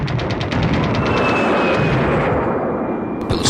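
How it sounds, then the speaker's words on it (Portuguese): Dense, continuous battlefield roar of cannon and machine-gun fire from the First World War, loud and rumbling with rapid crackling bursts layered over deep booms, no voices. "pelo som da metralhadora, som do canhão"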